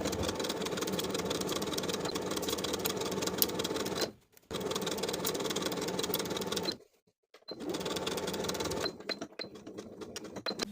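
A sewing machine stitches a shirt collar stand seam at a 3/8 inch allowance on a button-up shirt, running in steady close bursts broken by two short pauses.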